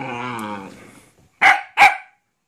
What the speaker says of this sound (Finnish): Ei saa haukkua.